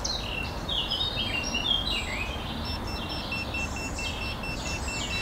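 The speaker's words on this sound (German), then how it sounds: "Dieses schöne Geräusch ist ein Alarm." An EMF meter's alarm sounds alone, a continuous series of close, high electronic beeps and warbling tones holding steady across the whole stretch.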